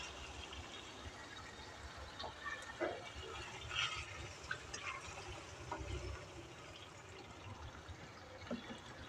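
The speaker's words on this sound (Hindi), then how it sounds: "½ प्याली पानी डालेंगे।" Half a cup of water pours into a pan of cooking dhuwan dahi chicken curry, a steady watery splashing and bubbling that continues quietly for several seconds with no talk.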